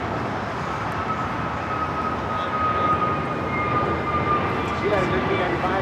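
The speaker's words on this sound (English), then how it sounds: "764 taking off to Puerto Vallarta on the A321neo" American Airlines Airbus A321neo jet on its takeoff roll at Los Angeles airport, a broad steady engine roar with a faint thin whine above it, continuous and moderately loud throughout.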